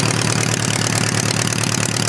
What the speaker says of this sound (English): Sounds like it's only running on four cylinders.